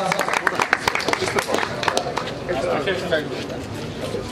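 Scattered clapping from a crowd at a political party gathering welcoming a youth wing guest, a patchy run of hand claps close by under steady talking over it.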